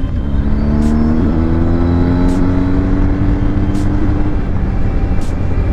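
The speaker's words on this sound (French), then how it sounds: "Vous êtes prêts? J'accélère." A BMW car accelerates with a loud, rising engine note that climbs steadily and is interrupted by short gear-change dips, heard close and alone throughout.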